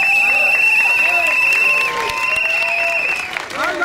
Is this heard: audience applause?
yes